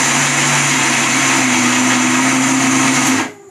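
A mixer grinder grinds soaked lentils for paruppu vada with a loud, steady, high whine close up, then winds down sharply as it is switched off.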